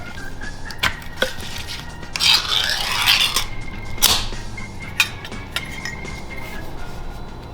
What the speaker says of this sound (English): Step 2, cut up your spam.